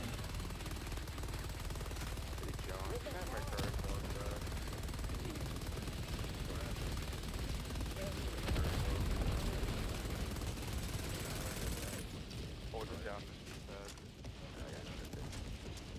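Gatling gun barrage in a sci-fi shooter against necromorphs: a long, dense stream of rapid firing and mechanical clatter lasting many seconds, with someone talking over it before the barrage thins out near the end.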